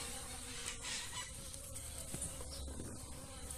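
Bees buzz around flowering pitaya plants in a home garden, a steady hovering drone close by with brief louder passes as insects move past.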